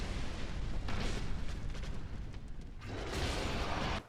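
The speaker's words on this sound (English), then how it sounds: "she just keeps trying to use her lava attacks" A fire boss in Dark Souls 2 unleashes lava attacks, giving a sustained roaring, rumbling eruption with a brief dip midway and a second surge before cutting off abruptly.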